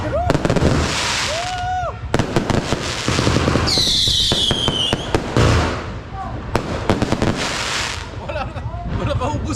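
Fireworks and firecrackers burst repeatedly at a New Year celebration, sharp cracks and rapid popping volleys both near and farther off, with people talking and a whistling rocket rising through the noise.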